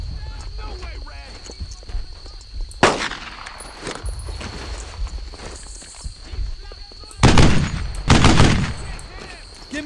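Bursts of gunfire in the World War II video game Brothers in Arms: Earned in Blood, with scattered single shots and two loud close volleys later on, mixed with soldiers shouting commands.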